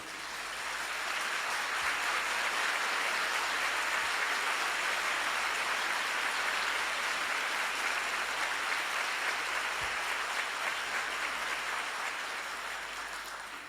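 Sustained audience applause at a Spanish-language congress fills the hall, a dense even wash of clapping that swells in, holds steady for over ten seconds and fades slightly at the end, with no voices over it.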